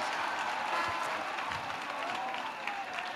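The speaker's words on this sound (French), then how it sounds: "Clap offering to Jesus Christ." A church congregation claps and applauds in a dense, sustained wash of hands filling a large room, steady from start to finish with faint voices mixed in.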